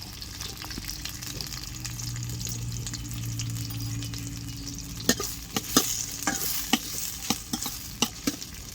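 Onions and other ingredients for prawn thokku sizzle steadily in a pan, a soft continuous fry, then a spatula stirs in with sharp scraping clicks repeating through the second half.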